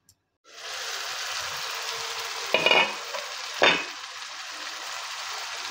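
Chicken masala frying in a covered pan over a low-medium flame, a steady close sizzle that starts abruptly, with two brief louder bursts of stirring or lid movement.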